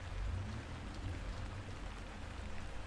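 Light, misty rain gives a faint, even hiss with a low steady rumble beneath, continuous and distant, with no voices.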